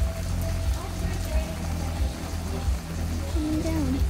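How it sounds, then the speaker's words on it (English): Rain patters steadily on surfaces during an August lightning storm in West Kelowna, a soft continuous hiss under low rumbling and faint background voices. "Oh, it's raining now."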